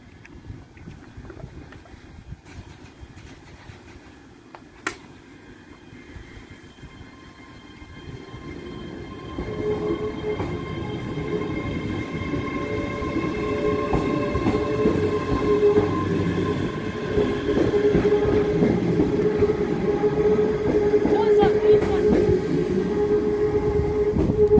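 A Class 385 electric train pulls away from Gourock station, its motor whine and low rumble building steadily in loudness over several seconds, with no one talking.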